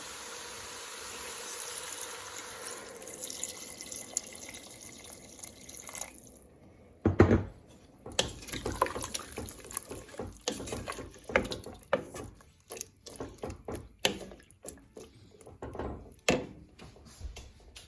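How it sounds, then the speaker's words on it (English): Chicken stock is poured into a soup pot of Moroccan vegetable soup, with a soft background hiss at first, then a sharp onset and a long run of irregular splashes and drips of liquid, fairly faint and close. "Then add the chicken stock."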